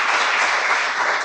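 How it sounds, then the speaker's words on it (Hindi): An audience bursts into steady, dense applause to welcome a guest at a rural rehabilitation award ceremony for disabled people, a continuous loud wash of clapping throughout. "तो पहले आप सबकी ओर से उनका तालियां बजा के स्वागत करेंगे"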